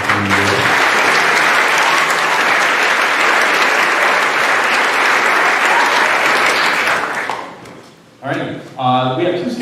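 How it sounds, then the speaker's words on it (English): An audience at an athletic awards night gives a loud, sustained round of applause, dense clapping that fades out near the end before a voice speaks. "So I think a round of applause can go to our community."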